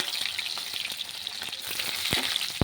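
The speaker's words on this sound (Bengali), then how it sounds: "আর দিচ্ছি তেজপাতা, রসুন কুচি, পেঁয়াজ কুচি" Bay leaf, chopped garlic and chopped onion hitting hot mustard oil in a pan, a bright continuous sizzle with a few sharp crackles and pops near the end.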